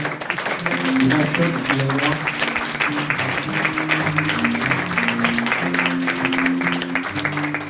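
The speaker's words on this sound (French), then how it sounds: "Vous pouvez les applaudir très fort déjà" A live concert audience applauds loudly, sustained clapping over a bed of music with tonal notes underneath, continuing steadily throughout.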